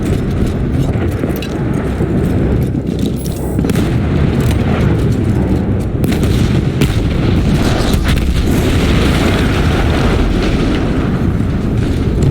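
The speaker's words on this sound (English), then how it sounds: "That explosion was one of the sweetest sights of the war for me." Large explosion in the Battlefield 1 video game, a loud sustained roaring rumble of blasts and heavy booms filling the whole clip.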